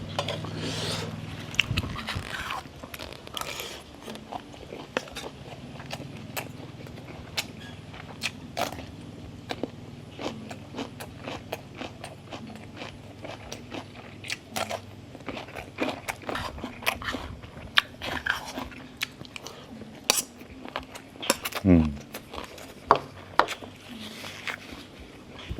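Someone eats Thai red beef curry, with steady close-up chewing and biting mixed with occasional clinks of cutlery on a dish, continuing in an uneven rhythm throughout.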